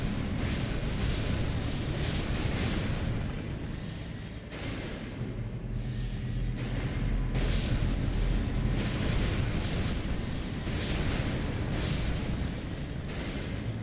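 In Elden Ring Shadow of the Erdtree, triggered explosions go off one after another as a string of muffled booming bursts over a continuous rumbling background, with no voices.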